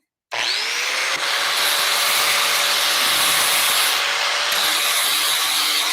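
A power grinder runs continuously and loudly, spinning up abruptly and then grinding steadily at growth on a boat hull with a high whining hum and rough scraping texture, with no talking.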